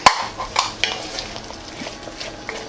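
About four cloves of minced garlic thrown into a hot pan, a sharp metallic clank followed by scraping stirs and a light sizzle, close and loud with no voice.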